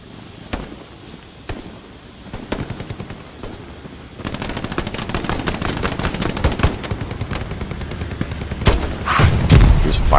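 Dense gunfire in Hell Let Loose, a World War II shooter, starts as scattered single shots and builds into sustained machine-gun bursts and nearby blasts, loud and close, with brief spoken words between them.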